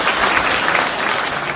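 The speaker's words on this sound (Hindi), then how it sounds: "जोरदार तालियां" Loud, dense applause fills a school farewell ceremony for the principal and a teacher, many hands clapping together at close range without a break.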